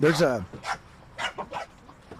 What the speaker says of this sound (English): There's 2 little dogs going at it right now.